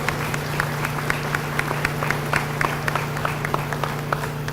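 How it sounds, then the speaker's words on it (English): Audience at a high school athletic banquet clapping in a sustained round of applause, steady and moderately loud over a constant low hum from the room. "Let's give these young ladies another round of applause"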